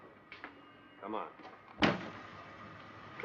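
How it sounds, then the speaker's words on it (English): A door at a store in a 1949 film noir, heard as a sharp close or slam partway through amid short voices and faint ambience. "Close that door."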